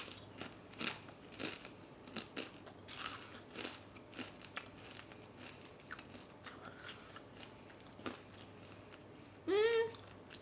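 Ranch-flavored Cheeto chips crunched and chewed close to the mouth, a run of crisp bites and crackly chewing over about ten seconds, with a short vocal sound near the end.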